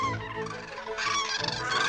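Flock of wild geese in the Warta River marshland polder, honking continuously in overlapping calls, fairly close and loud with no other sounds.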